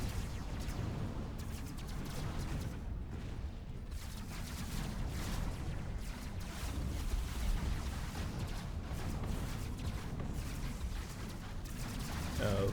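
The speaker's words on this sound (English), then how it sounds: "Large capital ships are in range, so they should be able to start firing within a couple seconds" Capital ships trade fire in a Master of Orion: Conquer the Stars space battle against a Bullrathi station, a steady dense rumble of overlapping weapon blasts and booms without pause.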